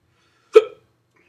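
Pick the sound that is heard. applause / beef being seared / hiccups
hiccups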